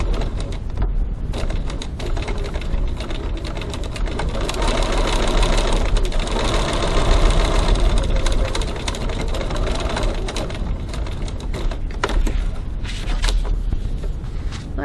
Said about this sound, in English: we're going to top stitch down the left hand side of the inner flap